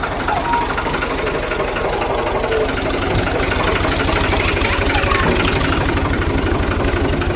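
A tractor engine running close by in a Pakistani village, with a steady, rapid, knocking diesel chug that holds an even rhythm throughout.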